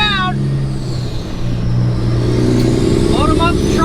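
A Peterbilt 389 truck pulls away and rolls on, its engine droning steadily and close up throughout, while people talk over it.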